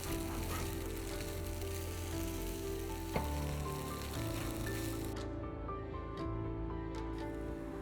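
Vermicelli fries and sizzles steadily in a nonstick kadai while being stirred, with close, continuous crackling and occasional scraping knocks from the stirring.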